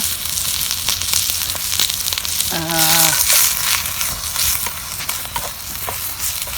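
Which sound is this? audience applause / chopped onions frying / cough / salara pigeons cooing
chopped onions frying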